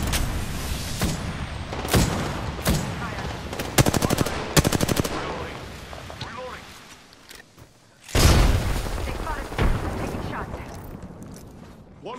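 Rapid gunfire in the video game Apex Legends, with loud bursts of automatic fire and single shots, heavy impacts, and a short lull before the shooting resumes, under in-game voice callouts.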